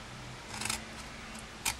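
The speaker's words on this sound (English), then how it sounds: "we are just going to cut up" Scissors snip through card along score lines to make flaps for a gift box lid, two short crisp cuts close by in a quiet room.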